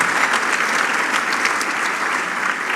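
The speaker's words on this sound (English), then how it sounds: "Big round of applause for our team that have made this possible." Steady applause from a conference audience at a forum, dense clapping that holds at an even level throughout with no pauses.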